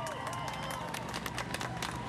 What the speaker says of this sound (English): almost on cue, cheers and applause for the police, the Boston police, as they drive by